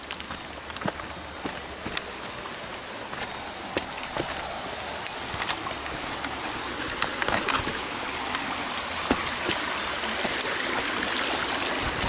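A river flows steadily nearby with a broad, constant rushing wash, with faint clicks and small splashes scattered through it and no voices.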